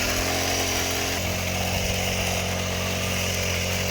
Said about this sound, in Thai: เราก็จะตัดหญ้าออกไปแล้วก็ดายหญ้า ให้โล่งเตียนเลยนะครับ